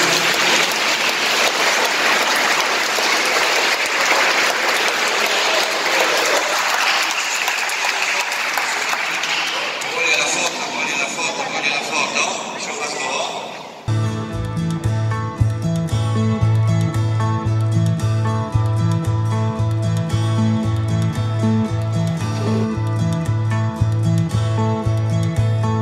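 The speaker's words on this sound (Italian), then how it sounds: "Facciamo un applauso per questo." Applause from a parish catechism group of children and families at the start of the season, a dense sustained clapping that fills the first half, then gives way to music with steady beats.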